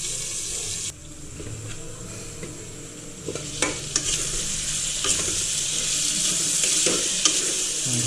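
Chicken pieces with garam masala sizzle in a pan on medium flame, a steady bright crackle with occasional stirring scrapes and clinks, close and fairly loud.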